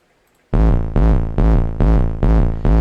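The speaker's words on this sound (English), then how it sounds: "It's a recorded sample that's pitching up" Pitching-up recorded mid-bass sample for a trance bass line in FL Studio, struck six times in a steady pulse between kicks, each hit loud and sustained with a bright, rising tone, alone after a short silence.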